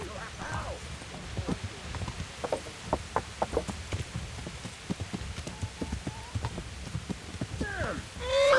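Horse hooves clip-clop at a steady walking rhythm in the medieval video game Kingdom Come: Deliverance, close and moderately loud, with faint background ambience and a brief voice near the end.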